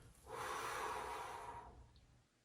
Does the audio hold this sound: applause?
no